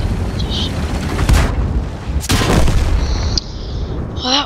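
Tank cannon fire and explosions from the World of Tanks video game, with several heavy booms and bursts in quick succession amid loud battle noise and a whining shell sound near the end.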